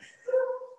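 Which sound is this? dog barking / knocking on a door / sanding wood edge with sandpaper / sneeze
dog barking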